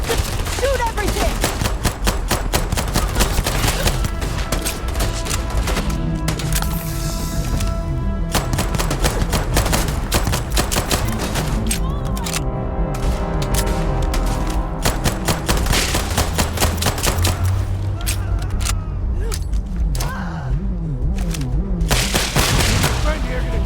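Rapid gunfire in the video game Starfield, dense bursts of automatic shots and booms rattling almost without a break, loud and close, with shouted voices mixed in.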